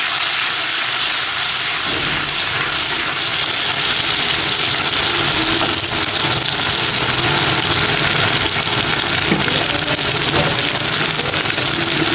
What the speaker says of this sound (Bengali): রুই মাছ রান্না করার জন্য আমি পেঁয়াজ দিয়ে দিলাম। পেঁয়াজটা বাদামি রঙের করে ভেজে নেব।